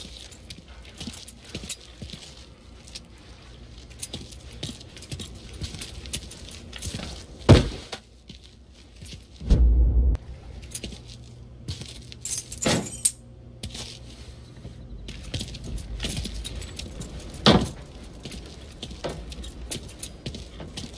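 Keys picked up and jangling in the video game Mafia 3, with a few brief metallic clinks and rattles over quiet background game ambience.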